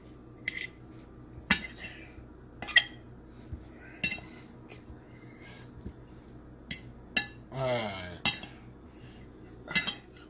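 Metal utensils clink and scrape against a dish while tuna and vegetables are mixed, a scattered run of sharp, close taps and brief scrapes with quiet pauses between.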